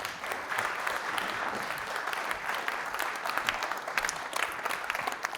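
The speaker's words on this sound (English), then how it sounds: "please, a very warm round of applause for Paddy McDonnell." An audience claps for comedian Paddy McDonnell in a steady, moderately distant round of applause that continues evenly throughout without any speech.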